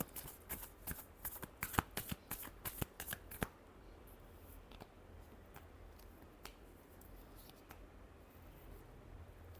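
Tarot cards are shuffled in quick, crisp riffles and snaps for the first few seconds, then only faint, sparse card flicks sound against a quiet room.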